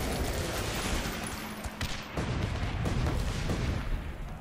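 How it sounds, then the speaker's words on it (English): Rapid bombing-run explosions from a B-52 in the tower defense game Guns Up, a dense rumbling barrage of blasts and crackling fire, loud and continuous with bursts through the middle. "Ooh, we got a bombing run. Yes, please. Oh, look at the B-52!"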